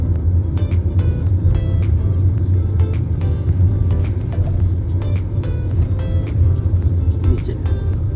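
A car drives toward the parking area at Chittorgarh Fort with a steady low engine and road rumble throughout, close and continuous, with faint clicks and rattles over it.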